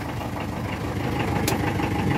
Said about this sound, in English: you pull the fuel shut off, and it shuts the engine off